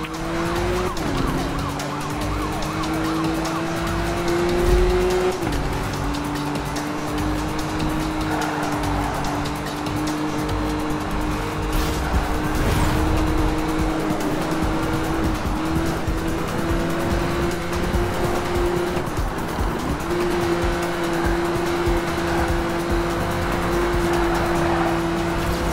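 Police chase in Need for Speed Rivals: a loud, steady wailing siren with shifting pitch rides over roaring car engines and occasional tire squeals, continuous and close throughout with no talk.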